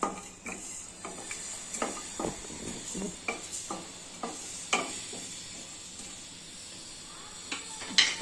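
Coriander, cinnamon and cloves dry-roast in a pan, stirred in a run of light scraping rattles and ticks that come at an uneven pace over a quiet background, close by.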